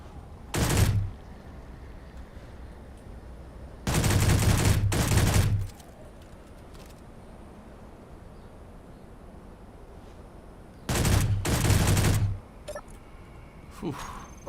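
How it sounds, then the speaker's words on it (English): Gunfire in the Space Engineers video game comes in several short bursts, each a dense rattle lasting under two seconds, loud and close with quiet gaps between. "shotgun."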